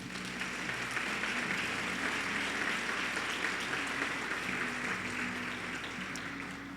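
A church congregation applauds in a sustained, even wash of clapping that holds steady for several seconds, with a faint tonal hum underneath.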